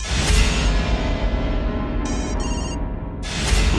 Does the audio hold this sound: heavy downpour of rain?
no